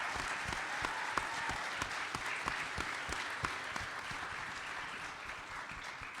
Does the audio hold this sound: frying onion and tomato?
no